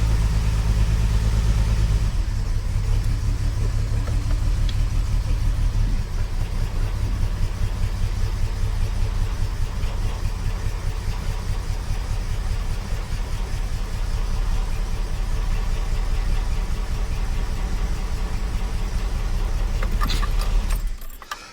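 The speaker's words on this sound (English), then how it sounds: "This is a so much better engine." Car engine fitted with a newly swapped Weber carburetor idling steadily and loudly up close, with a brief rev at the start and a rattle near the end.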